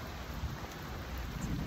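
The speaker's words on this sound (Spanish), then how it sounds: "les voy a poner mi clip de yo mojándome en toda la lluvia" Heavy rain pours down in Milan during a storm, a dense, loud, steady roar close by with low rumbling underneath, and no one talks.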